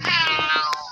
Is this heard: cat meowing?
yes